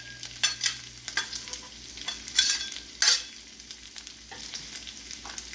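Peppers and onions fry on a Steelmade griddle, a soft steady sizzle broken by repeated sharp scraping and clattering strokes of a spatula stirring them, close up with no talk.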